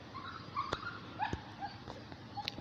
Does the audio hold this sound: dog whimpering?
yes